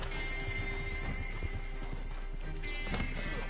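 A horse in the Red Dead video game clip-clops at a gallop and whinnies, its hoofbeats and neighs fairly quiet amid game background sound.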